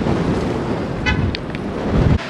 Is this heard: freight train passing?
no